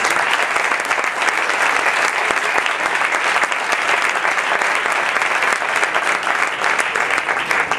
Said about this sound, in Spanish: Todo ello un gran aplauso porque sin ellos esto no podría haber sido posible.